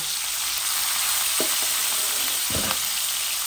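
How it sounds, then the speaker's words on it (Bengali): Sea bream fish frying in oil in a pan, a steady broadband sizzle with a couple of brief clinks or stirring knocks, heard close with no talking. "পয়লা মাছগুলাকে ভেজে নিয়ে তারপরে রান্নাটা বসাবো"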